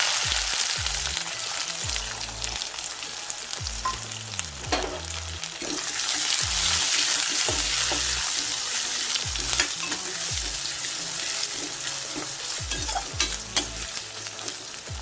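Onion sautéing for rava upma in a hot pan, a steady loud sizzle under repeated scraping stirs of a spoon against the metal, with no talk.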